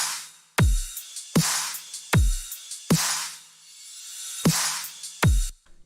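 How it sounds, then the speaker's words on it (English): Electronic drum pattern for the second drop of a bass-heavy track: hard kicks with long booming tails strike in a steady, driving rhythm, layered with dense hissing hi-hats and cymbal wash between hits, loud and with no voices. "So now the drums for the second drop sound like this."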